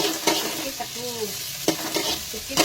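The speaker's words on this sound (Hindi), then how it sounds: "पियाज फ्राए हो गला" Chopped onions sizzle steadily in a hot pan while a utensil stirs and scrapes them in periodic strokes, close and fairly loud, with no one talking.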